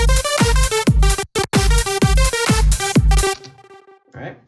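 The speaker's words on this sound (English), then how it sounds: "I'm going to show you guys today on how to make a lead supersaw using sylenth." A bright lead supersaw synth patch built in Sylenth1 plays a loud, punchy rhythmic phrase of repeated stabbed chords over pulsing bass hits, with a brief gap midway, then rings out and fades near the end with no voice.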